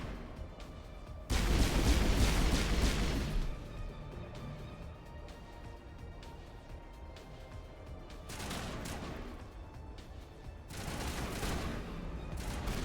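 Gunfire in Mass Effect aimed at a rock comes in heavy rapid bursts, a loud volley early, then quieter rattling and two further bursts near the end.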